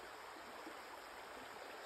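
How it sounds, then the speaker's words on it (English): A babbling brook in the North Woods of Maine in late August, water rolling over rocks as a soft, steady, faint rushing wash, continuous and even, with no voices. "sitting by a babbling brook."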